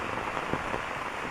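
Rain falls on a village dirt path and a bamboo grove, a soft, steady patter of drops with a faint hiss, heard briefly and quietly with no voices.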